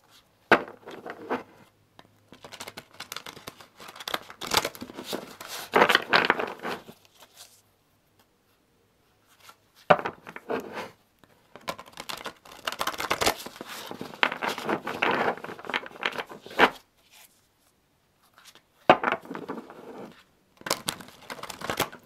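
Bursts of papery riffling and crisp snapping, repeated shuffles of cards with short pauses between them, close and fairly loud with no talking.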